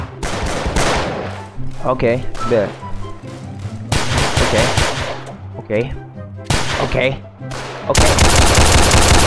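Rapid bursts of gunfire from a Roblox hood-style shooting game, loud repeated shots clustered in several volleys with a dense sustained stretch at the end, while a player talks over the action.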